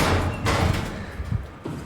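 A door slams shut in the sci-fi horror game SOMA, a heavy close thud followed by a second fainter knock, over a low droning game ambience.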